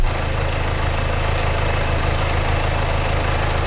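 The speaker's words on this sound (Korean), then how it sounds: "엔진 소리 일정합니다" A Land Rover Discovery Sport 2.0 TD4 diesel idles steadily up close with the hood open, a loud, even low rumble and clatter throughout.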